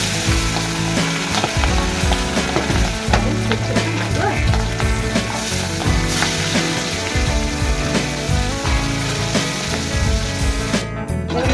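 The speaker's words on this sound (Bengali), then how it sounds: "তেল আমার গরম হয়ে গেছে এক এক করে মাছগুলো দেবো" Loud, continuous sizzling and crackling of pabda fish frying in hot oil, steady throughout with no talking.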